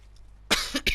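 A single sharp cough with a brief second burst, close to the mic, after a quiet low hum.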